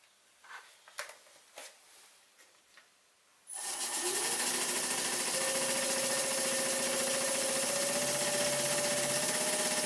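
A spinning wooden sphere turns on a lathe at about 1,000 revs, starting with a few faint knocks before a sudden, loud, steady whine and hiss as light cuts are taken, the tone continuing evenly and close by.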